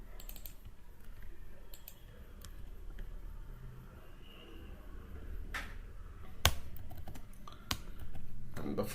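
Code is typed on a computer keyboard in scattered, sparse key clicks and a few sharper taps against a faint room hum, nearby and moderately quiet, with no voice over them.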